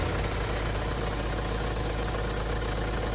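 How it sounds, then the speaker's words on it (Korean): A diesel car engine idles steadily in front of its open engine bay, a loud, even, close hum with no change in pace and no voices. "다른 소리는 하나도 안 들리고 이 엔진 돌아가는 소리만 들리고"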